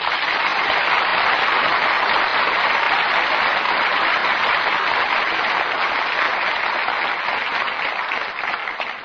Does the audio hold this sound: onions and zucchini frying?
no